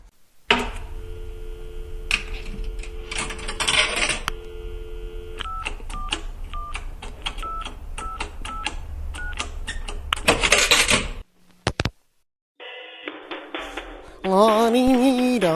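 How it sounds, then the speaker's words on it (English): A telephone number is dialed, producing a quick series of short electronic tone beeps at close range, followed after a brief pause by line tones and ringing. "Help us out there, Jason. Dial the number."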